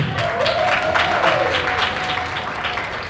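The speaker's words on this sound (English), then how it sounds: "Big round of applause for Dr." An audience at the NUP Diaspora Convention 2024 in Chicago claps for an introduced guest. Steady, full applause fills the whole short stretch, with a faint tonal hum running beneath it.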